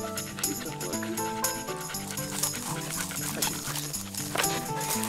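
Tired hunting dogs on a Mearns' quail hunt pant in quick, continuous breaths against a busy outdoor background, with a brief spoken word near the end.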